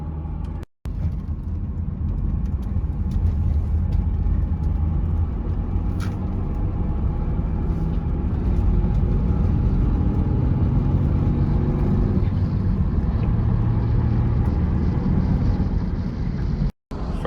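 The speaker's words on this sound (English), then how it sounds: "First time with the Legend in 6th gear." A 1995 Acura Legend LS with a six-speed manual and a freshly overhauled engine cruises in sixth gear. A steady, loud engine and road drone fills the cabin from start to finish, with no talking.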